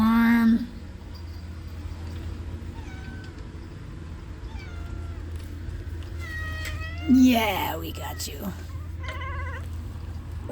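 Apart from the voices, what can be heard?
cat meowing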